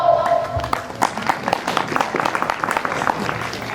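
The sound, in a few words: audience applause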